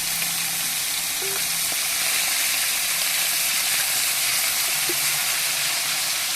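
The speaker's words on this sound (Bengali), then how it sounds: "মাংস রান্না করার জন্য আলু ভাজা হচ্ছে।" Potatoes fry in a pan before meat is cooked, giving a close, constant sizzling hiss with a few small pops and no talking.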